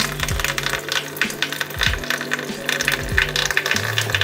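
A wrench ratchets in quick, uneven clicks while loosening the drain plug beneath an aluminium radiator on a Mazda MX5, close and loud with metallic rattles and no voices.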